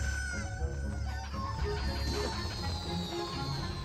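Cucco chicken in Zelda: Breath of the Wild, clucking and squawking in quick bursts over game background music, fairly faint.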